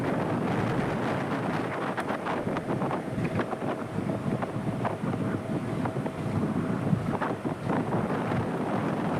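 Strong sea wind buffets the microphone at New Digha beach, a constant loud roaring rush blended with the dull crash of surf, with no break across the whole stretch.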